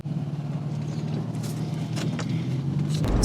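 Car driving along a back road at slowish speed, a steady close engine and road rumble with continuous tire noise and no talk.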